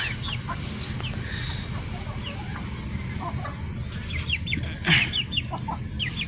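Chickens cluck steadily while pecking at leftover cooked rice, with several birds close together and one louder, sharper call near the end.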